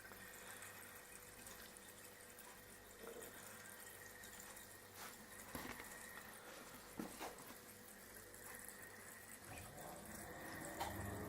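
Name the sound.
home brew lager poured from tap into bottle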